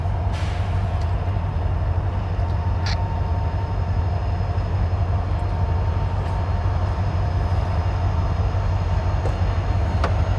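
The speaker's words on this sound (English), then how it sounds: "Northbound juice train, trash train." CSX northbound freight trash train passing, a loud continuous low rumble of rolling cars with steady wheel noise and occasional faint metallic clicks, unbroken for the whole stretch.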